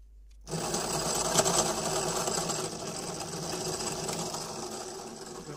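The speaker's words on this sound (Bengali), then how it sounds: "এই পিকআপ দিয়ে এখন আমি আমার মোটরটা ঘুরিয়ে দেখবো আমার কাজ হচ্ছে কিনা।" A small electric motor spins up under a 48-volt controller, run by a throttle on a bench during a controller repair, giving a steady, close whirring hum that starts abruptly and holds at an even pitch with no talk.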